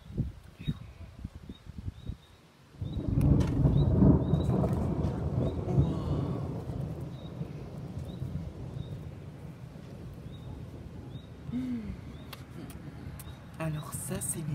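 A sudden deep rumble of thunder from a lightning strike directly overhead in a June thunderstorm in Montoison, France, rolling loudly then slowly fading over several seconds, with faint insect chirps and a voice now and then.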